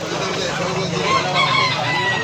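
A brief, steady din of market chickens and roosters for sale in Tabunok, Cebu, clucking and calling close by with faint crowing mixed in, no speech.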